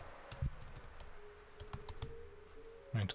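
Someone types a prompt on a MacBook Pro keyboard, producing soft, scattered key clicks close by in an uneven rhythm, with a quiet steady hum underneath and a couple of louder taps near the start and end.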